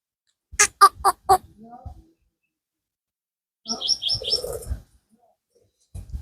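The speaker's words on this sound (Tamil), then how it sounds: "ஒரு லவ் பேர்ட்ஸ் எல்லாம் ஒரு சின்ன ஒரு நெஸ்ட்டு வச்சுருக்காங்க லவ் பேர்ட்ஸுக்கு" Lovebirds at a small nest outdoors give a quick burst of four bright chirps, then a longer busy run of twittering calls a couple of seconds later, close and clear with quiet gaps between.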